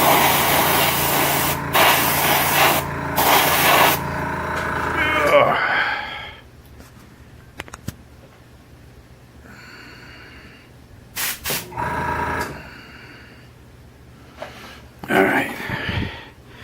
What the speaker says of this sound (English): I just opened it up a little bit more and spray it out